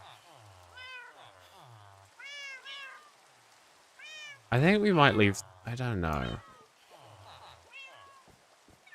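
Four Minecraft cats, one of them a Persian, meow repeatedly in short chirping calls spread across the clip, with a louder burst of overlapping meows in the middle, while a person talks quietly underneath.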